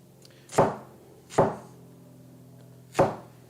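Knife slicing onion on a cutting board: three distinct, sharp chops spaced about a second apart, close and clear against a quiet background with no talking.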